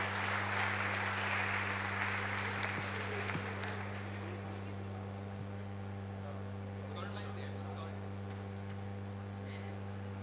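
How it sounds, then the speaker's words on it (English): Business-convention audience applauding a speaker at a 2015 convention: a dense, steady burst of clapping that thins out and fades after a few seconds, leaving a low electrical hum and faint room murmur. "can we have a huge round of applause for him, please?"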